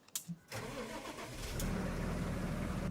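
A tractor engine in Farming Simulator 25 cranks briefly and catches, then settles into a loud, steady low idle that grows slightly fuller, heard alone with no talking.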